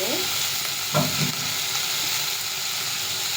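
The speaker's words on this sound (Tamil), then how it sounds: "வெங்காயம், தக்காளி, பூண்டு எல்லாம் நல்லா வதங்கிட்டு இதில் நம்ம வந்து கத்திரிக்காய் போட்டுக்கலாம்." Brinjal frying in a pan with sautéed onion, tomato and garlic, a loud, continuous hissing sizzle with a few stirring scrapes and clinks early on, close and without talk.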